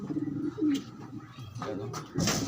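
Pigeons coo close by in a few low, throaty, rolling calls, with faint background noise between them.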